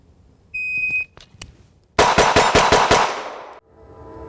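A pistol fires a rapid string of about six loud, close gunshots around the right side of a barricade at a competition shooting practice, preceded by a shrill electronic start beep and a few clicks.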